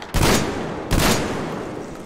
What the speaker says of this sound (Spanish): esa ametralladora no será la del D6